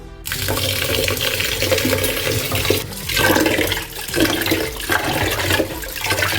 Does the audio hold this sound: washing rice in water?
yes